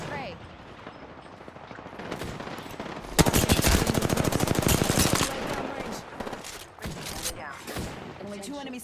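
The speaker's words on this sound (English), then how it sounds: "Opening fire on our prey." Rapid automatic gunfire from the Apex Legends battle royale game, a dense burst of shots in the middle of the clip with scattered shots before and after, under occasional game voice lines.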